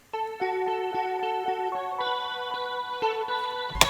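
A guitar run through chorus, delay and reverb, layered with a bell-like Pharaoh synth, plays a rhythmic sequence of chiming plucked notes with shimmering echoing tails, ending on a brief noisy burst.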